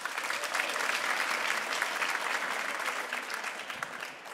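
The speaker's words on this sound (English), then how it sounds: "Can we have a round of applause, please?" A crowd claps steadily in sustained applause at a live food event on stage, fairly loud and continuous, fading slightly at the end.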